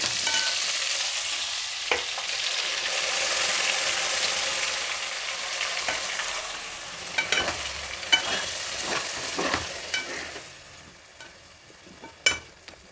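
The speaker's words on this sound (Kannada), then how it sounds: "ಈಗ ರುಬ್ಕೊಂಡಿರೋ ಮಸಾಲೆನ ಇದರಲ್ಲಿ ಸೇರಿಸ್ತಾ ಇದ್ದೀನಿ" Thick ground masala paste for an onion gojju sizzles in a hot pan while a spoon scrapes and stirs, with occasional sharp clinks against the metal.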